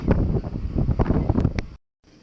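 Wind gusts around a Bavaria 38 sailboat moored in February, a loud, steady rushing buffet that stops abruptly near the end and returns faintly.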